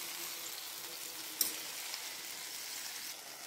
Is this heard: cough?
no